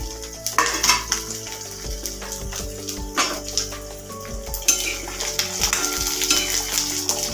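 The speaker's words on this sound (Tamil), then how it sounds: "இப்போது பூண்டெல்லாம் போட்டு வதக்குறோம்" Garlic cloves sauté in hot oil in a pan for a garlic pickle, giving a steady crackling sizzle with spoon stirring and occasional clinks of metal against the pan throughout.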